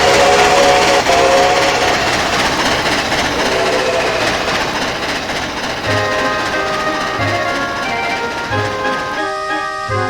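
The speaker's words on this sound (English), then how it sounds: "Ah, that must be the train." A train in the railroad game Rails of Illinois rumbles along with a steady mechanical drone and clatter, while a whistle sounds in long sustained tones and a few shorter toots; no one speaks.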